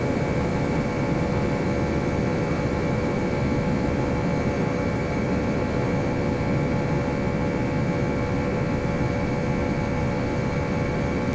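Flight simulator Airbus A318 jet engines at takeoff power, a steady, dense roar with an even tone throughout and no breaks.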